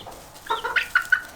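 Chickens in a backyard chicken yard give a few soft, short clucks, rising in small bursts close by against a quiet background.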